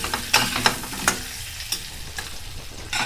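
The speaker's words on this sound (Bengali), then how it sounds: "আলুটা ভাজার সময় সামান্য লবণ, সামান্য হলুদ গুঁড়ো দিয়ে আলুটাকে ভালোভাবে ভাজতে হবে।" Potatoes with a little salt and turmeric frying in mustard oil in a wok, a close crackling sizzle punctuated by several sharp stirring scrapes, then a quieter steady hiss.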